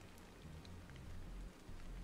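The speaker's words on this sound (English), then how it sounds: "This must be Earth's rain." Rain falling in the video game Stellar Blade: a soft, steady patter of rain on surfaces with scattered drops and a low rumble underneath, fairly quiet and with no voices.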